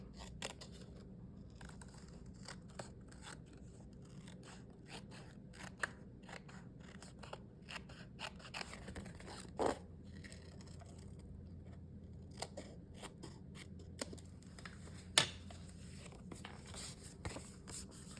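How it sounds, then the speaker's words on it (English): Scissors trimming excess paper off a handmade holiday card, a quiet run of rapid crisp snips and small clicks, close and uneven in rhythm, with a couple of sharper cuts. "We're just going to trim off the excess."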